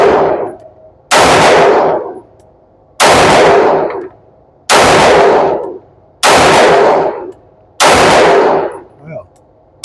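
Six sharp pistol shots from a Canik TTI Combat or Sig P365 AXG Legion ring out at an outdoor target range, evenly spaced about one and a half seconds apart, each a loud crack with a ringing tail.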